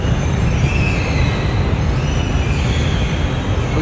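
A loud, steady rumble of a Riyadh metro train arriving along the track, with a constant low roar and faint high squeal, no voices.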